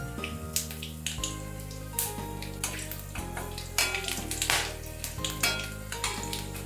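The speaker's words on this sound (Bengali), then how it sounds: "ফোড়নটা একটু নেড়ে নিয়ে" Dry red chillies, bay leaves, whole cumin, cardamom, cinnamon and cloves crackle and sizzle in hot oil while being stirred, with light clinks from the pan, partly masked by steady tonal music throughout.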